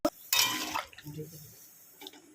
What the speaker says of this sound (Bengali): জল দিয়ে দিলাম পরিমাণ মতো